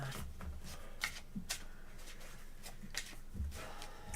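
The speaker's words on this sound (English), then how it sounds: "Shuffle one more." Tarot cards being shuffled by hand at a table, a series of soft riffling bursts and taps spaced irregularly over a few seconds, fairly quiet and close, with no talk.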